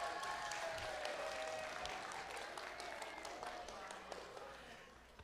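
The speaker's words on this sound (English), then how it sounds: "Let's give them a big round of applause." An audience claps for young music camp performers after a recital, a steady fairly faint patter of applause that slowly fades, with some voices mixed in.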